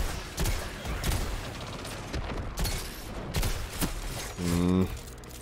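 Gunfire rattles through a Destiny 2 firefight in bursts of sharp shots and rapid volleys, with a few louder cracks and a quick mechanical burst near the end, mixed with game sounds.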